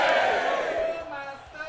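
An arena crowd roars and shouts together in a loud, sustained wall of voices that gradually eases off over a couple of seconds.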